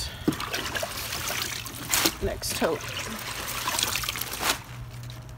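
Water trickling and splashing as harvested greens are washed in a tote for a farmers market, a continuous close dribble with a few louder splashes, under a person talking.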